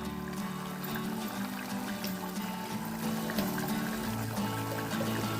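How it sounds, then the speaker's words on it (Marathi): Water is poured onto the lid of a cooking pot while chicken rassa cooks, a steady, quiet trickle and splash running throughout, with low background hum and no speech. "आता पुन्हा एकदा आपण या टोपावरती झाकण ठेवायचं आहे आणि परत पाणी ओतायचं आणि पुन्हा झाकणावर पाणी ओतून ठेवायचं"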